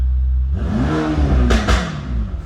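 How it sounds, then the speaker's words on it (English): A Mercedes-AMG GT Black Series with its 720 hp engine idles with a deep rumble, then gets a quick sharp rev that swells and falls away, loud and close, with no voices. "go ahead and give it a quick little rev."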